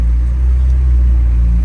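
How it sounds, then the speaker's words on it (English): A McLaren 720S engine rumbles loud and deep from inside the car at night, a steady low roar across a short moment with no talk. "why you revving your car?"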